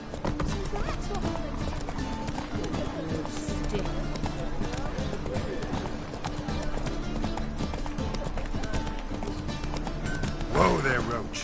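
Geralt's horse Roach gallops in The Witcher video game, with rapid rhythmic hoofbeats running continuously under game music and effects and a brief whinny near the end. People talk over it.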